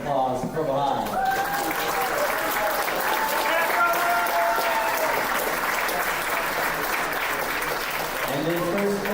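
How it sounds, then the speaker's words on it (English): Loud, sustained applause from a large crowd at a Utah state high school esports championship, steady clapping filling the whole stretch with cheering mixed in. "Give one more round of applause for Provo High."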